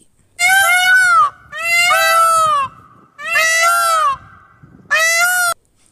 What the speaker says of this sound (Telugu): పీకాక్ యొక్క సౌండ్ ఇది.